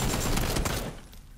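Dense, sustained full-auto AKM rifle fire in the battle royale game PUBG on Xbox One, a loud continuous burst of rapid shots that tapers off near the end with no talking.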